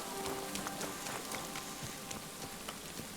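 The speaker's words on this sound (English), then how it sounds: "Oh, it's raining, thank God." Steady rain in the video game Kingdom Come Deliverance 2, hissing on a surface, with scattered distinct drops tapping throughout; continuous and fairly close, no talking.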